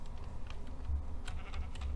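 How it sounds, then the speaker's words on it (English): A sheep bleats faintly in the Minecraft video game, while computer keyboard keys clack softly in the foreground. "There's a sheep."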